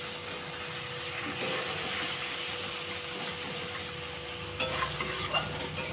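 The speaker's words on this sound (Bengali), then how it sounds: "তারপর মশলাটা ভাজা হয়ে গেছে, আমি এবারে একটু জল দিয়ে দেবো।" A Bengali spice paste for banana flower kofta curry sizzles steadily in the pan after a splash of water, with continuous stirring scrapes throughout and a few louder clattering knocks near the end.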